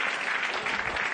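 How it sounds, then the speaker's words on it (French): A live audience at a French pickpocket show breaks into loud, dense applause that fills the whole moment without a pause, close and continuous with no voices rising above it. "Et on applaudit très fort."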